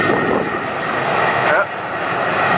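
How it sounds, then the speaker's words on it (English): Boeing 737 jet airliners, one American and one Delta, at Atlanta airport during eastbound operations, giving a loud, steady engine roar close by that swells briefly midway. "Two 737s. One American, one Delta."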